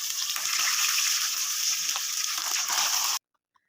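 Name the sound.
fish frying in hot mustard oil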